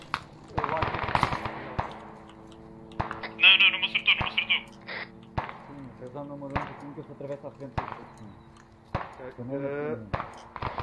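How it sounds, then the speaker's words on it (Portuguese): Machine gun fire in the military shooter game Arma 3, bursts of rapid automatic shots recurring across the scene with a loud cluster near the middle, mixed with steady game background noise while someone talks. "Ui, temos aqui muitos tiros aqui deste lado."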